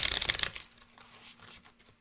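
Tarot cards shuffle in a quick, dense papery burst for about half a second, then fall almost silent.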